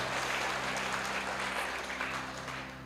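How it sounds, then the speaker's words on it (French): Applause from a church congregation, a soft, distant wash of clapping that holds steady and then gradually fades toward the end. "Est-ce que nous applaudissons, bon Dieu, ça?"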